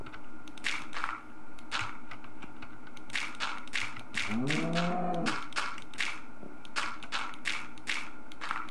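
A cow in Minecraft lets out a single drawn-out, wavering moo in the middle, surrounded by a rhythm of repeated block-placing taps and thumps before and after it.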